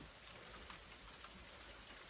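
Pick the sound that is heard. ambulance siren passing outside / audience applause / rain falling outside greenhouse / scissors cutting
rain falling outside greenhouse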